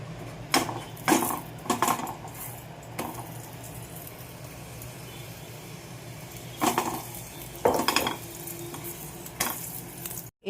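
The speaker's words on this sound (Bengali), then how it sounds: "এবার একটু তেল দেবো, অল্প অল্প তেল দিয়ে ভাজবো।" Small round snack patties shallow-frying in a little oil, with a steady low sizzle broken by a few sharp bursts of stirring and scraping against the pan, close and fairly quiet, no voices.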